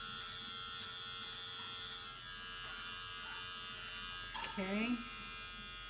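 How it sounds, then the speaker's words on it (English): A cheap electric trimmer from a budget razor hums steadily as it runs over hair, a constant close buzz with a voice speaking briefly over it. "So first I'm going to try the trimmer."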